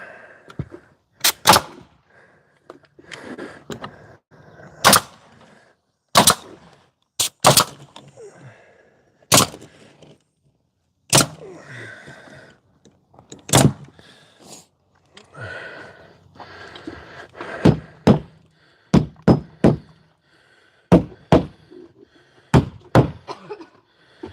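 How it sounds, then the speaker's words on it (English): A staple gun fastens sheeting onto the walls of a mobile home, giving about twenty sharp, close snaps at irregular intervals, some in quick pairs, with quieter handling noise between. "these mobile home people and their staple guns"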